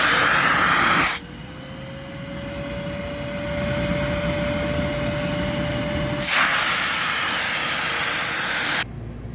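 A Sebo C3 vacuum cleaner runs steadily and loud during a suction test, starting abruptly after a brief burst, holding a constant whine that shifts in tone midway, then cutting off near the end.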